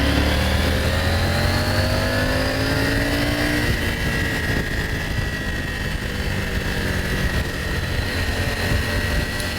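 A 2022 Triumph Tiger 900 GT motorcycle pulls hard in third gear toward 70 mph on a group demo ride, its engine note climbing steadily over heavy, constant wind roar.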